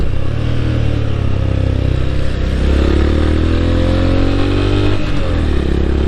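A 2021 Honda GB350S single-cylinder motorcycle accelerates on a road, its loud, close engine rising steadily in pitch through the gears, with wind rush and no talk.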